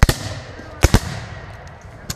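Black-powder musket shots at a Civil War battle reenactment: a sharp crack, then a close pair of loud reports, then a fainter pop from farther away, separated by gaps of quiet.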